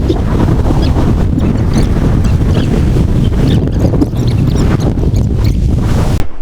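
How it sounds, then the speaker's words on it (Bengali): Sea waves roll in on the beach at Cox's Bazar with a steady, loud surf roar mixed with wind buffeting the microphone, continuous throughout without any voices. "ঢেউগুলো আসতেছে, স্মুথ একটা সাউন্ড আসতেছে"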